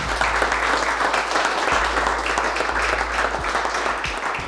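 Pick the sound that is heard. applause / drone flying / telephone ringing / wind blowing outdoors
applause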